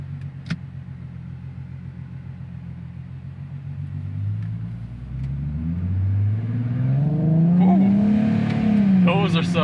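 A supercharged 2019 Nissan 370Z engine idles low, then revs up in a rising, whining climb that grows louder and rougher toward the end, with brief speech in between.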